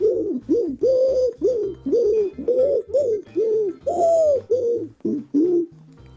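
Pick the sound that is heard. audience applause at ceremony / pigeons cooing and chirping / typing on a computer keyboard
pigeons cooing and chirping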